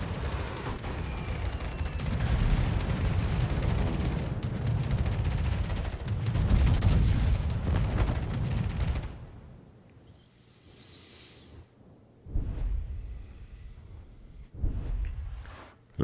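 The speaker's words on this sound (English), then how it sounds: "Luis takes a salvo at the Slava." Warship main-battery salvo in World of Warships, a loud rumbling wall of heavy gunfire and booms lasting several seconds, then a quieter lull broken by further distant blasts.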